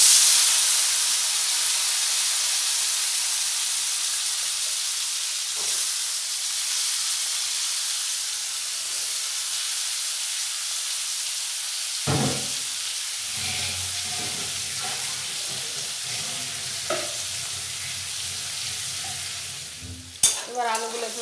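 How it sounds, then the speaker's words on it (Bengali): Cut potatoes fry in hot oil for moong dal, starting as a steady loud hiss, then turning into clattering stirring scrapes and bumps against the pan over continued sizzling. "এবার আলুগুলো একটু নাড়াচাড়া করে নেব।"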